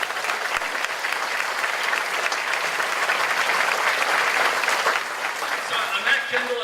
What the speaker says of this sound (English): give a round of applause for Kendall